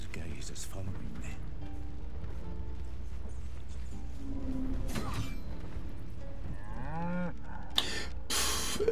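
An ox moos within the fantasy game Baldur's Gate 3 on Xbox Series X, a low bovine call rising over game ambience and background music, with a character speaking around it.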